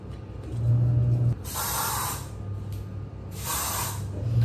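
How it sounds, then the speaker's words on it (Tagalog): An aerosol can sprays against a fish smell indoors in two long hissing bursts close by, each lasting under a second, with a steady background hum and no talking. "Mag-spray lang ako nito guys kasi medyo nangangamoy yung isda."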